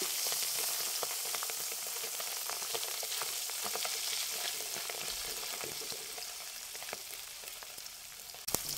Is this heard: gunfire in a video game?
no